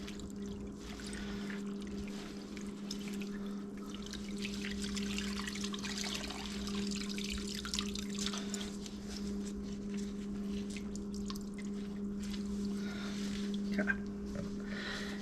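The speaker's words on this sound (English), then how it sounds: "just warm water from the sink, no soap" Warm tap water runs from a sink as an air filter is rinsed without soap, a soft continuous trickle and splash under a steady low hum, fairly quiet and close.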